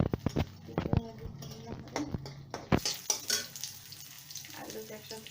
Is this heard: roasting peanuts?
yes